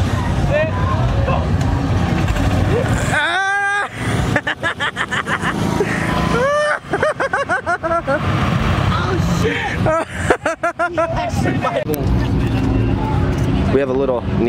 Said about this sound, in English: We have a little Nissan truck we do, and we come here every Friday to race it. It's a big turbo.